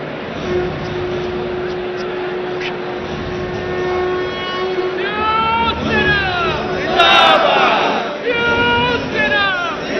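Large crowd gathered at a Thackeray brothers' political event, a continuous hubbub of voices rising into shouted chanting and whistles, with a close voice speaking over it.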